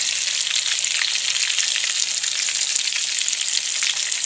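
Green peppers frying in a hot pan give off a loud, steady sizzle that stays dense and unbroken throughout, with faint crackles scattered through the hiss and no voices.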